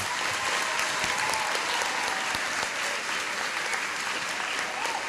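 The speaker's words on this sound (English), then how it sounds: "May we please have a round of applause for the graduates from 5 Blue" An audience at a 2007 school graduation applauds the graduates of class 5 Blue: steady, dense clapping from many people, continuous and fairly close, with faint murmurs underneath.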